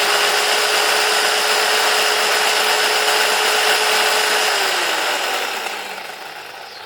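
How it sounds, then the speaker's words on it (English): A WORX electric chainsaw runs at a steady high-pitched whine that holds near, loud and unaccompanied for several seconds, then winds down and drops in pitch as the motor coasts to a stop. "A perfectly usable chainsaw."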